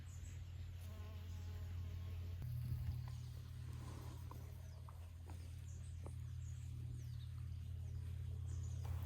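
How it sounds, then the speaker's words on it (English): Bees buzz steadily nearby among flowers, a continuous low droning hum that holds for the whole stretch with slight rises in loudness. "It was delightful to see those bees buzzing about in the flowers."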